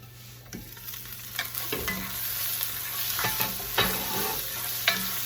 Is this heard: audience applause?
no